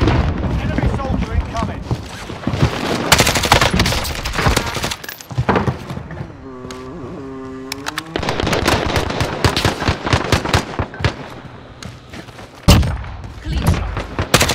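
Gunfire in the Warzone video game on Rebirth Island crackles in dense rapid bursts, close and loud, with a short pause in the middle and muffled voices under the shots.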